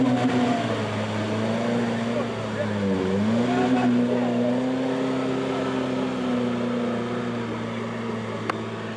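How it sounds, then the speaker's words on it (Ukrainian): An off-road car on a rally course in Ukraine drives straight into a mud bog, its engine droning steadily with a dip and swell in pitch midway, loud and continuous throughout. "Щоб подолати одну з точок, учасникам потрібно заїхати прямо у болото."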